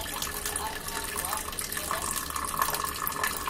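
Water streams steadily from the spout of an electric water ionizer installed in a bathroom, producing a continuous splashing gush close by without a break.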